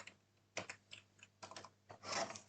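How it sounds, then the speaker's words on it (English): Keys clatter on a computer keyboard in quick irregular bursts of typing while someone codes a desktop application; the sound is close and alone, with no one talking. "What is happening to my typing in the morning?"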